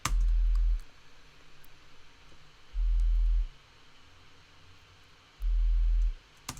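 Three deep, pulsing sub-bass sine-wave tones from the Massive synthesizer, each about a second long, arrive at even intervals with quiet hiss between them.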